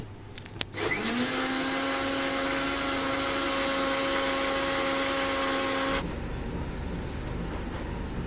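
A kitchen blender whirs steadily as it mixes paneer butter masala ingredients with tomato and butter, starting after a brief clatter, running loud and even for about five seconds, then cutting off to room noise.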